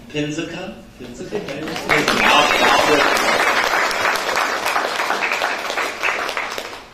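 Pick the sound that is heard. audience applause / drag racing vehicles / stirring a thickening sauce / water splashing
audience applause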